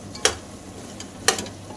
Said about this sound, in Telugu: కలుపుకోవాలి మంచిగా.